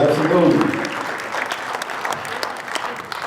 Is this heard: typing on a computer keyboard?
no